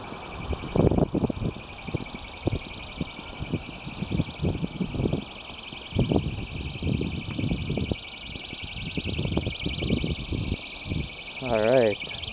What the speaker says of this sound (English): Alright, so now I'll do a test outside and see how loud and far this panic alarm can go.